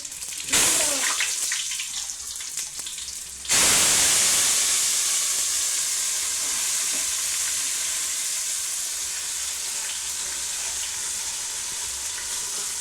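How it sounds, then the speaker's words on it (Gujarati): Spices crackle and sizzle in hot oil as mustard seeds, garlic and cumin hit the pan, a loud burst that falls away, then flares again and settles into a steady close hiss and spatter with no talk. "તેલ આવી જશે તો રાઈ નાખી દઈએ પછી લસણ નાખી દઈએ જીરું"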